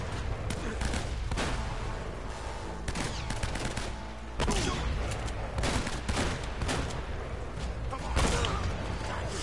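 Shotgun blasts aimed at enemies behind cover in Uncharted: Drake's Fortune, heavy repeated booms spread irregularly through a loud, dense firefight, with some talk mixed in.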